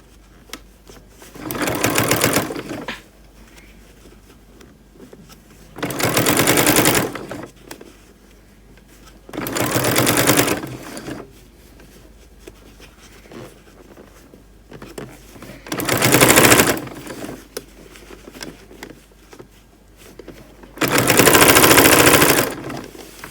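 A sewing machine stitching a bag runs in five separate bursts of fast, rhythmic needle chatter, each lasting a second or two with quiet gaps between them, heard up close.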